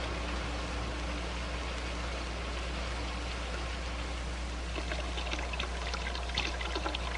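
Water runs steadily through a manifold fitted with manometer tubes and bleed valves, a continuous soft trickling stream with faint splashy droplets growing toward the end, heard alone at low level.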